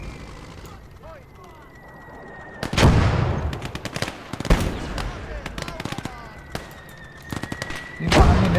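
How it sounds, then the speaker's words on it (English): Mortar fire in the war video game Motherland: a string of heavy, sharp blasts and rapid gunfire bursts rings out over a quieter battlefield bed, with voices speaking between the shots. "That's mortar fire."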